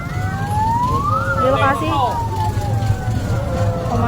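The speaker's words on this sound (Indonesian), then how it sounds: "Ini mobil bantuan damkar baru saja tiba" A fire truck siren wails with rising and falling sweeps as backup firefighters arrive at a burning Toyota Kijang in Lubuklinggau, heard over traffic rumble and crowd noise, with someone briefly speaking over it.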